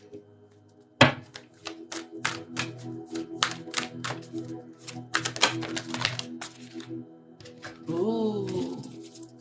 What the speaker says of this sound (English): So I'm going to pull some cards real quick.